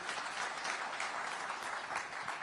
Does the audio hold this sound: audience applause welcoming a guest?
yes